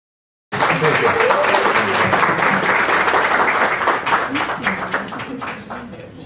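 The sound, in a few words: audience applause at book launch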